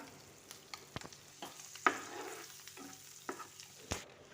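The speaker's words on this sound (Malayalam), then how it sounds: "ഇനി ഒന്ന് മിക്സ് ചെയ്ത് കൊടുക്കാം മസാല ഒന്ന് എഗ്ഗിൽ പിടിക്കണ വരെ" A spoon stirs quail egg masala frying in a pan, with irregular scraping strokes and a few sharper knocks over a soft, steady sizzle. No voices.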